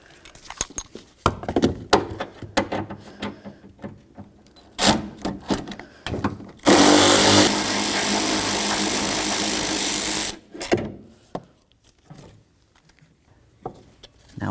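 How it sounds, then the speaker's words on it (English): A tool whirs for a few seconds while removing blower motor mounting bolts on a 1999-2007 Ford F-250, surrounded by scattered clunks, taps and handling noises, fairly loud and close. "The next thing I want to do is remove my two mounting bolts."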